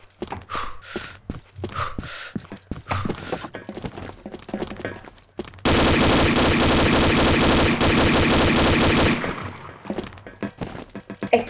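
Gunfire from a weapon in a video game, a sustained loud automatic burst of about three and a half seconds with scattered single shots and game noise before and after.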